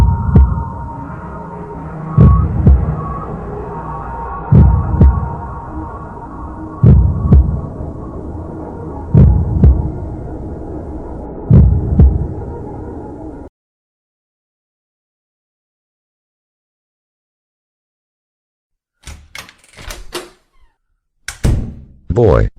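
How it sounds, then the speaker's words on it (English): A slow, heavy heartbeat in a horror video game, deep thumping pulses repeating evenly about every two and a half seconds over a steady low hum, then silence, followed by a few sharp bursts. "It was a heartbeat."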